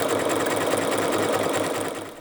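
A sewing machine stitches along the edge of a flower applique on fabric, running steadily at close range with a continuous, even mechanical whir and rapid needle rhythm, no talking over it.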